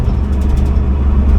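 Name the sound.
farm truck engine rumbling while driving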